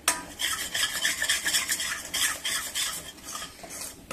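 A spoon stirs spice masala in hot oil in a pan, brisk scraping and clinking strokes over a soft sizzle, close and repeated at an irregular pace with no voices.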